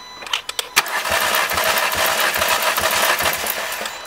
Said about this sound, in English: I'm going to go crank the engine for 5 more seconds and see where it goes to.